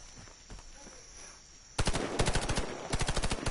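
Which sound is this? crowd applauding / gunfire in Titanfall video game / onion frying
gunfire in Titanfall video game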